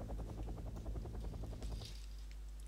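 A helicopter in Wargame Red Dragon thumps past with rapid, evenly spaced rotor beats, faint and low, fading into a steady rumble near the end.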